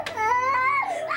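A young boy screams and cries at the top of his lungs in a family home, one sustained, loud, wavering wail lasting the whole moment, close and strained, with no talk over it.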